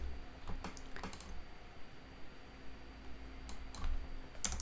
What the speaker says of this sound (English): So maybe I have to type